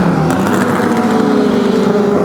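Race cars roar steadily around a circuit used for GP Explorer, a continuous loud engine drone with slight pitch swells through the whole stretch, no talk over it.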